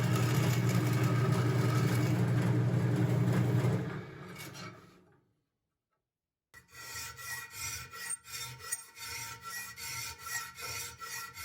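A hand file cuts a notch into the annealed steel tang of a main gauche parrying dagger. A steady rasping noise fades to silence, then rhythmic back-and-forth file strokes follow, close and clear.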